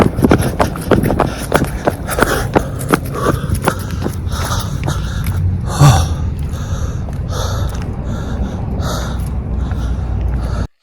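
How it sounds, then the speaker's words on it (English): Heavy, rapid breathing and gasps from a runner right after a sprint, close and loud, with rhythmic footfalls early on and breaths continuing in short repeated bursts. "you saw how I was breathing in that sprinting video"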